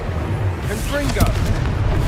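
Confringo blasting spell explosion in Hogwarts Legacy, a loud booming burst that rises under a voice and carries on as a rumbling blast through the short moment.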